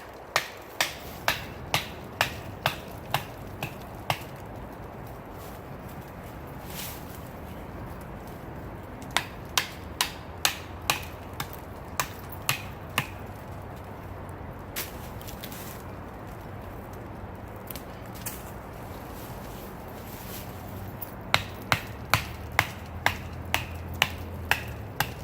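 A Gerber Strongarm tactical knife is batoned through wood, struck near the tip of the blade, making sharp, crisp knocks in quick bursts of several hits, with pauses between the bursts and no talking.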